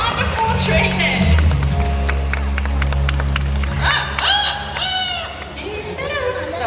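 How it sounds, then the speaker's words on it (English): An audience claps after a bird show at Bird Paradise in Singapore, a steady wash of applause lasting several seconds while voices talk over it. "let's give it up for Gaia, CK, and their wonderful trainers"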